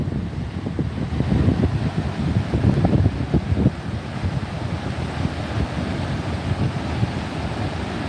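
Wind gusts driven by the Augrabies Falls waterfall down in the gorge, a loud continuous rumbling roar with heavy buffeting against the microphone and a deep, surf-like wash.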